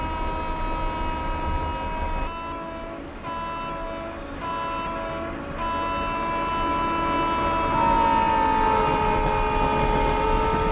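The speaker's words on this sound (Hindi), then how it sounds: "हॉर्न चाहिए" A train horn sounds in a train simulator game on the Sayaji Nagari Express run from Ahmedabad to Dadar. Steady, sustained tones blare loudly over continuous rolling rail rumble for most of the stretch.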